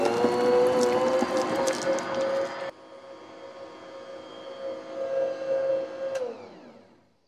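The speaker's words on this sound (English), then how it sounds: "So this is 3/4 cups of room temperature butter going in the mixer with a cup of shortening." A stand mixer beats butter and shortening, a loud whirring motor drone that drops in intensity partway through, keeps running steadily, then winds down and stops near the end.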